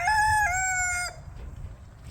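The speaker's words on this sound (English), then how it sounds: "We have two silky roosters, as it turns out." A silkie rooster crows once nearby, a loud clear stepped call lasting about a second, then faint farmyard background with no talk.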